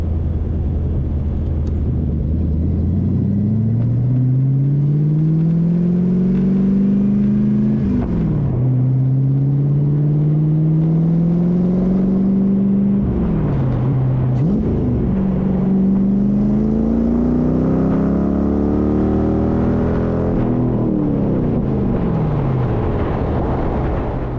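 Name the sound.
home-built Mustang-swap Shelby Cobra accelerating on takeoff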